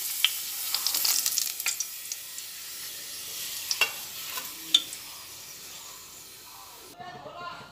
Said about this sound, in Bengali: পাঁপড়গুলো সবকটাই তেলের মধ্যে দিয়ে দিয়ে ভেজে নিচ্ছি